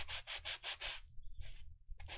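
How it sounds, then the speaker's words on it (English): A sanding block rubs over a painted surface in five quick, even strokes, then a pause and two more scrapes, close and clear with no talk. "So I just brought in the sanding block."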